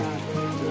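Steady rain falls during the Hoju Kuwa festival of the Nocte community in Arunachal Pradesh, a continuous even hiss with no distinct drops, heard alone at moderate level.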